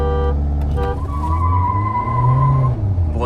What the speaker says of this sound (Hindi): व्हील स्पिन कितना ले रही है आज ये